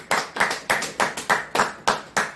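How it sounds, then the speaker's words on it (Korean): An audience at a Korean religious lecture claps in steady unison, about nine evenly spaced hand claps in a regular rhythm, fairly close and moderately loud with no talk. "박수"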